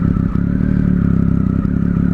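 Triumph Speed Triple RS ridden slowly, its engine a steady low rumble with a throbbing pulse and faint mechanical clatter, loud and close throughout.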